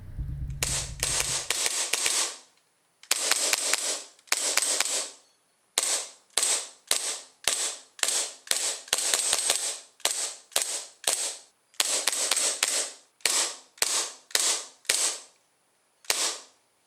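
An ASG CZ P-09 airsoft pistol fires in quick, sharp bursts of rapid shots, loud and close, with brief pauses between volleys and no talking.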